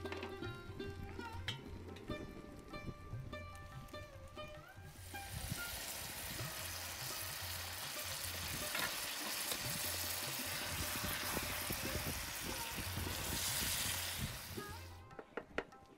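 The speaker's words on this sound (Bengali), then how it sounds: "এবার দিয়ে দেবো কিছুটা মাংস সেদ্ধ করা জল।" Meat-boiling stock water is poured into a pan of spiced mutton kosha, a broad rushing hiss and sizzle swelling steadily for several seconds before tailing off.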